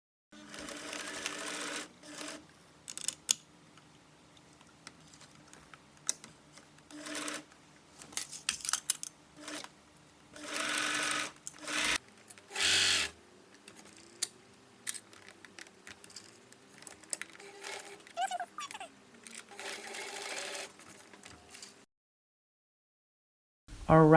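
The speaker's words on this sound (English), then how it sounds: "And I sew." A home sewing machine stitches a seam in jersey fabric, running in repeated loud bursts of rapid mechanical whirring, with clicks and handling noise between runs and a short silence near the end.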